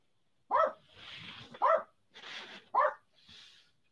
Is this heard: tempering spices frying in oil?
no